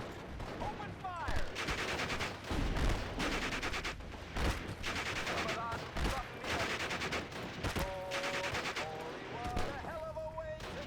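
Infantry gunfire rattles through a Steel Division: Normandy 44 battle, with rifle shots and machine-gun bursts cracking in quick repeated volleys at mid distance, while voices call out over the shooting.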